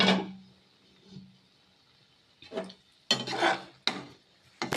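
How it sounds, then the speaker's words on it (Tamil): A metal lid clatters and scrapes as it comes off a pot of Maggi instant noodles cooking on the stove, in short close clanks and rubs with quiet gaps between them. "ஸோ நம்ம லிட்டு ஓப்பன் பண்ணி பார்க்கலாம்."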